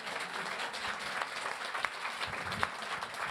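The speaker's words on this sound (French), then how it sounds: "Ne m'applaudissez pas trop parce que Wauquiez va m'engueuler après." Audience applause at a political talk, a steady dense wash of clapping at moderate level with a few sharper individual claps standing out.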